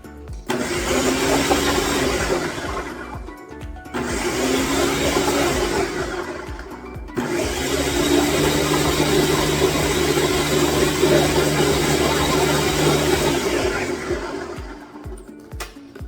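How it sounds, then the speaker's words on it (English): A blender runs loudly in three bursts mixing dough ingredients with lukewarm water for pholourie, briefly stopping twice before a long continuous whir that winds down at the end. "Everything into the blender."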